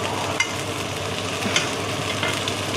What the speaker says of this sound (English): Be able to see it sizzling away.